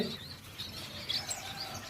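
Caged finches and parrots, including blue-faced parrots, chirp in a bird breeding room: a dense, continuous chorus of high, overlapping tweets and short calls at moderate distance over a rustling background.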